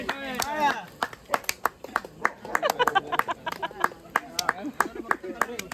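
A group claps along at an outdoor birthday celebration by the water, sharp handclaps in a fairly steady rhythm mixed with singing voices.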